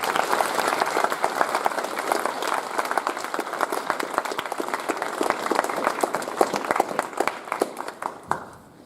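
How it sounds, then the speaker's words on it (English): Applause from the audience at a Rolleston College Year 10 prize giving, a dense, steady wash of many hands clapping for about eight seconds before it cuts off abruptly. "a special round of applause."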